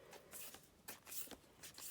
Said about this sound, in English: I'm just shuffling the cards as I'm setting my intentions here